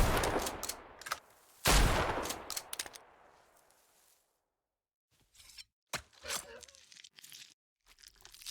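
A video game shotgun fires in loud, crunching blasts, one especially heavy boom standing out early before the noise dies to silence, followed by a voice talking over a few scattered lighter sounds.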